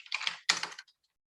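Two short bursts of rapid keystrokes on a computer keyboard while logging into a Raspberry Pi, close and clear, followed by silence.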